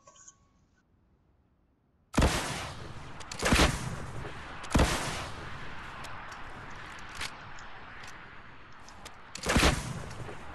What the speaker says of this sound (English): Shoot a rocket at me from that far, and I'm gonna see if I can rocket ride on it